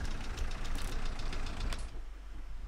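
A Mahindra 575 tractor engine in the Farming Simulator 19 video game runs at a steady idle, a close, low diesel chug that continues for a few seconds without talk.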